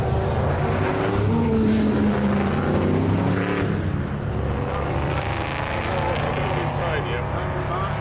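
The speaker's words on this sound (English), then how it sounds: "that is the sound of a V8 in the morning." A Morgan V8 car engine idles in the morning with a deep, throaty rumble, loud and close, while a person talks over it.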